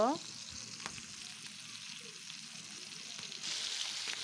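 Fish frying in hot oil in a pan over a wood fire, a soft, steady sizzle at low level, with a faint clatter early on and the hiss swelling slightly toward the end.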